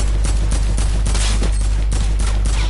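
Rapid gunfire in the Fortnite video game, a dense loud burst of repeated shots fired in quick succession over a heavy low rumble, with no talking.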